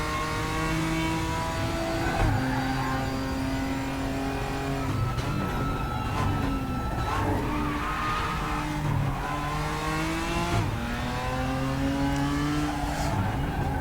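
A race car engine in the RaceRoom oval racing game revs and climbs steadily, held in third gear, with repeated pitch rises and brief tire squeals, loud and continuous with no talk.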